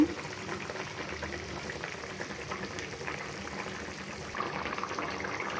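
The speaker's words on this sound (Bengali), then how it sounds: "এবার বলক ওঠার জন্য অপেক্ষা করব" Tilapia and pointed gourd curry with added water simmering in a pot, a steady soft bubbling hiss at low level that grows slightly louder near the end.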